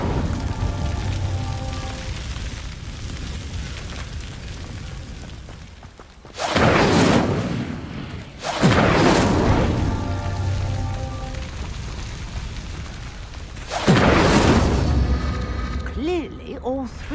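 Whooshing bursts of the Incendio fire spell ignite pyres in Hogwarts Legacy, three loud roaring flares separated by quieter stretches, with a steady crackling ambience and a spoken spell incantation in between.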